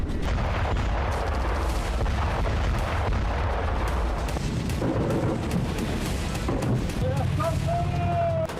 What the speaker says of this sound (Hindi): यूक्रेन के सरफेस ड्रोन से भयंकर धमाके होते हैं